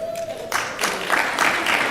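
Scattered claps break out from a keynote audience at a sales event, sparse and uneven after a brief tone, with no voices over them.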